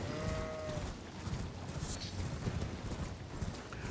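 Horse hooves clip-clop in quick rhythmic beats while riding and jumping in the Macbeth video game, heard over a dense, steady background of game ambience.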